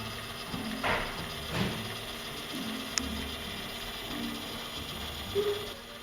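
An overhead mixer stirs a cooling water-in-oil shea butter cream emulsion with a faint, steady mechanical whir and a few soft clicks. No voices.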